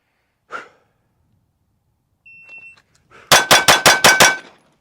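Six rapid, loud gunshots from a handgun with an optic-cut slide crack in quick succession on a shooting drill, following a brief breath and a faint electronic timer beep.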